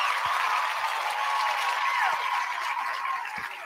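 Students at an interactive civil rights talk in a school give a round of applause, a full wash of many hands that fades slightly toward the end, with a faint whistle-like tone above.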